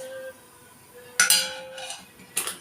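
A spoon knocks against a metal pot holding ghee as rice is readied, two sharp bright clinks set apart over faint background hum.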